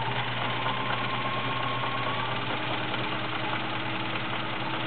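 Vintage Kenmore 1400 sewing machine stitching a scallop design, a steady, continuous mechanical hum and whir, close and unbroken throughout.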